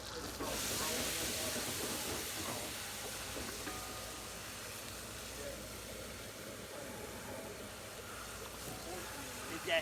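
Frying oil and butter hissing and sizzling on a hot homemade hibachi griddle, a loud bright burst that settles into a steady, softer crackle over the whole stretch.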